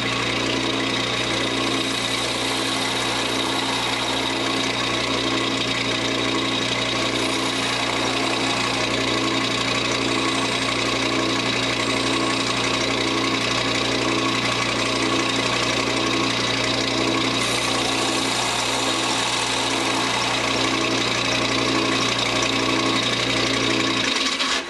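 A wood lathe spins a Federal-period finial while a gouge makes roughing cuts. A constant motor hum runs under a steady, rhythmic chattering of the tool against the wood, and no one talks.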